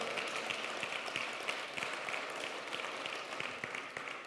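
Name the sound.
congregation applause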